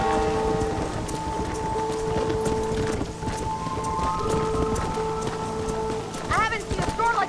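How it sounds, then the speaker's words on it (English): Rainstorm in Red Dead Redemption, steady hiss of heavy rain under horse hoofbeats and faint rumbling, with sustained tonal music or lowing tones and a brief bird-like chirp near the end, voices speaking over it. "This storm's getting worse."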